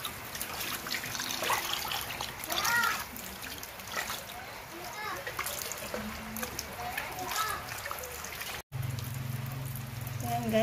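Beef skin for balbacua, just boiled, rinsed and rubbed under running tap water, giving a steady splashing and trickling stream with scattered drips, close and fairly loud, broken by a brief pause near the end.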